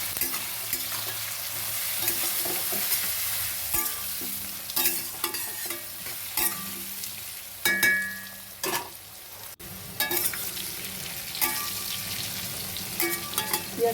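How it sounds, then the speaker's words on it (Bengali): Onions fry in a pan with turmeric and salt while a spoon stirs them, giving a continuous close sizzle broken by repeated scraping and clinking strokes at an uneven rhythm, with no voices. "পেঁয়াজটা ভাজা হয়ে গেছে"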